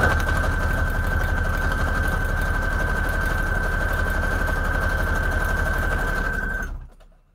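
A sewing machine runs steadily and loudly with a sustained mechanical whir and a constant whine, no talk, then stops abruptly near the end.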